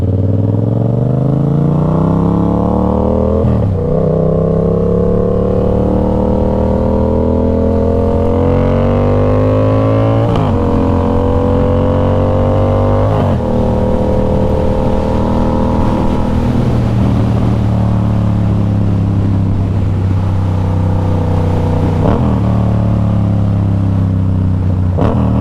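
A 2015 Yamaha MT-07 motorcycle fitted with a KO Lightning straight-pipe exhaust revs loudly and close, its engine pitch climbing and dropping in repeated surges across a long, continuous run.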